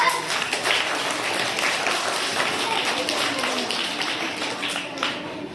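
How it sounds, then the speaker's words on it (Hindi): Children in a primary school classroom clap together in a ragged burst that runs for several seconds, with a teacher's voice and chatter mixed in. "शाबाश, तालियां बजाओ इधर।"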